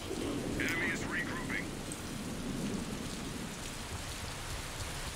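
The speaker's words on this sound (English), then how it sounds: "If this planet is just having acid rain all the time" Steady hiss of acid rain pouring down in the video game Mass Effect, loud and continuous with a low rumbling bed beneath, and a short bright electronic chirp near the start.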